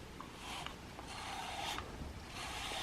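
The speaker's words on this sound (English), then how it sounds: "He likes to rub up against the brush." A brush drawn through a shedding cat's fur, soft steady rasping strokes repeating at a slow, even rhythm, close and quiet, with no voices.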